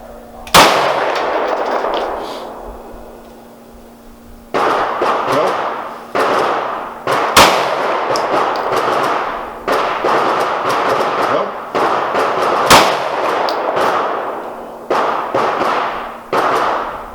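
Gunshots fired in a speed sights shooting drill from the low-ready position: sharp, loud cracks come one at a time at uneven intervals over a steady background, with voices talking between the shots.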